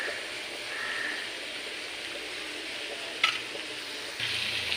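Garlic paste frying with onions in a pan, a soft steady sizzle close by with a sharp clink of a utensil partway through and a brief louder hiss toward the end.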